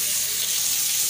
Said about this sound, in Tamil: டேப்புக்கு வந்துருச்சு தண்ணி.